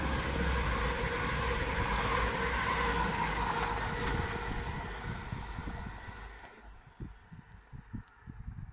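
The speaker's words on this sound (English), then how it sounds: "that train thundering away into the tunnel" A Class 222 diesel train, unit 222018, passes through Elstree & Borehamwood station on the Midland Main Line, a loud sustained roar that fades away into a tunnel, leaving quieter rumbles and clatters.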